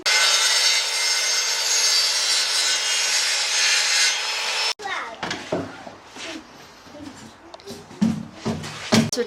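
A hand saw rasps through a piece of wood being cut down for bed frame legs in a 1994 Mitsubishi Pajero, a steady loud stroke for several seconds, then lighter rubbing and handling with people talking.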